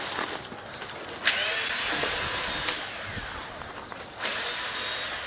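A power drill drives screws into a screen door, whirring in three bursts of several seconds each with brief pauses between, close and fairly loud with faint clicks around them.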